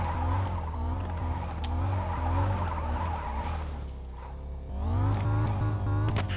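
Toyota Trueno drifting in Car Parking Multiplayer, its engine droning loud and close with sustained tire squeal. The sound dips briefly, then surges again with renewed revving and squealing.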